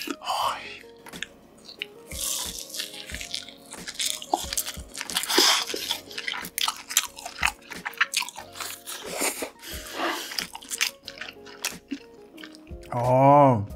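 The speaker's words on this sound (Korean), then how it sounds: "치토스 핫도그는 케찹이랑 머스타드 듬뿍 뿌려서 한번 먹어볼게요" Close-up eating of a Cheetos-coated hot dog topped with ketchup and mustard, with crisp crunching bites and wet chewing and squishing noises, intermittent and near, ending with a brief vocal moan.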